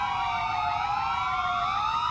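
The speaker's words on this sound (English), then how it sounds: "these sirens gave him PTSD" Police sirens in the video game Grand Theft Auto IV wail continuously, layered electronic tones sliding up and down steadily, loud and alone with no talk.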